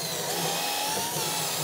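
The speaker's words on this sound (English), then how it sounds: "take my drill and just drill in" A handheld power drill boring into wood at an angle for a workbench drawer, a continuous dense whirring grind held at steady loudness for its brief length, with no talk.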